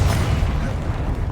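A Confringo blasting spell in Hogwarts Legacy lands as a short, loud, low booming burst with a rumbling tail, close and without speech.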